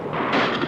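Gunfire in a battle scene from a 1975 Indonesian film, a loud, dense burst of shots and blasts lasting under a second, booming and distorted.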